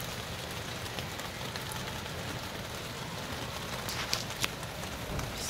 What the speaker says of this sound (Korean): 빗소리가 아주 좋습니다.